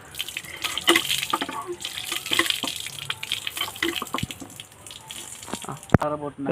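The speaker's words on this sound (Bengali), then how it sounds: "এবার ধনে পাতা ধুয়ে নেওয়া হবে।" Coriander leaves are rinsed under a running kitchen tap for a potato dish: continuous splashing and trickling water into a sink, with scattered drips and clinks, fairly close and steady throughout.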